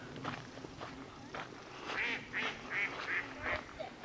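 A duck quacks in a quick run of five or six nasal calls, fairly close and moderately loud, with faint talking and outdoor noise beneath.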